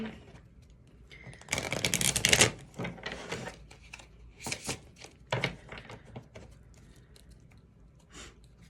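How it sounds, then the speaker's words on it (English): Oracle cards being shuffled for a tarot reading, a series of close, crisp riffling and flicking bursts, with the loudest cluster early on followed by shorter scattered flutters, alone without speech. "let's get some clarifying cards with the Love Oracle."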